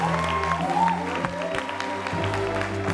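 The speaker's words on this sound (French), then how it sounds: "On va l'applaudir encore." An audience applauds continuously, a dense patter of clapping mixed with low crowd noise and some background tones.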